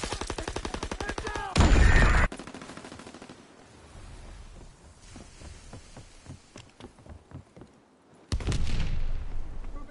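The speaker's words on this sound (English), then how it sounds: "Enemy mortar fire incoming!" Enemy mortar fire in a war video game: rattling bursts of gunfire give way to heavy booming blasts near the start and again at the end, with scattered shots in between.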